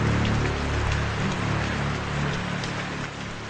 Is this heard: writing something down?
no